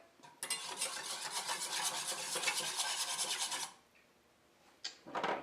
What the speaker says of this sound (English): I'm going to whisk that in.